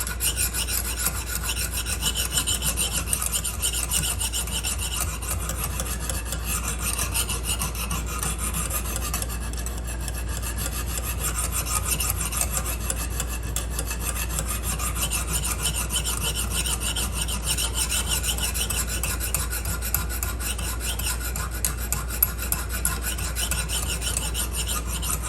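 Steady rasping strokes of a knife blade across a Lansky sharpening system hone, worked continuously to raise a burr, a close, even scraping texture with no talk.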